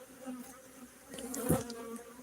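Honeybees buzz steadily around an open hive box, a close droning hum that swells briefly as one flies near, with faint background noise and no speech.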